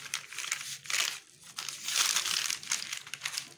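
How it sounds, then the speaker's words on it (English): Scissors cutting through two folded layers of organza fabric, giving a close, continuous crisp crinkling and rustling that swells and eases in waves, with no talking. "I'm going to cut both of them at the same time."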